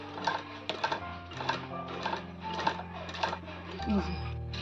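A sewing machine stitches a readymade sleeveless kurti in quick, evenly spaced mechanical bursts, close by and moderately loud, while someone talks over the whirring.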